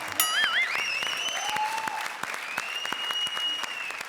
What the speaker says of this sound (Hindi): जरा जोरदार तालियां मीनाक्षी।